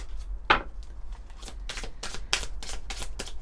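Oracle cards are shuffled by hand up close, a run of crisp riffling flutters and soft slaps in a quick uneven rhythm over a low steady hum.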